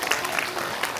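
An audience at a school Founders Day celebration claps loudly, a brief dense burst of hand-clapping filling the hall at steady volume.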